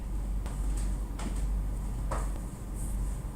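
The door of the Green Thunder water slide on the Carnival Spirit cruise ship is shut, giving several sharp metallic clunks over a loud, steady rumble.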